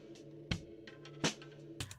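Drumsticks dropped onto a snare drum, dry and unprocessed: three sharp, close rattling hits spaced apart, each a short bright clatter with faint ringing between them.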